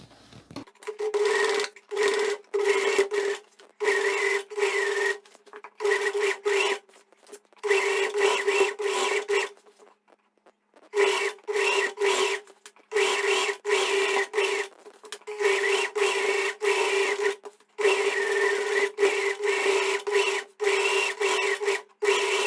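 A sewing machine stitches close to the end of a shorts waistband as a finishing seam. The motor hums in repeated bursts of a second or two, separated by short pauses, and stays steady and close with no talking.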